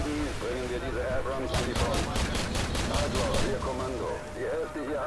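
A cannon fires a rapid burst of booming shots in the Call of Duty 4 video game, loud and close, over constant game background noise while someone talks throughout.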